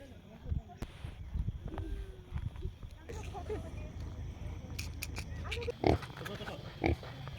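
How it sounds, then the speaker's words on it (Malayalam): A pig gives low grunts close by, several short snorts standing out near the end, with rustling and movement around it. A person talks over the sounds. "ഗൈസ് ഞാൻ പന്നിനെ തൊട്ടു"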